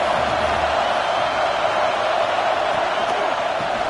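Football stadium crowd cheering during a game, a dense, steady roar that fills the whole stretch at constant loudness, with no single voice standing out.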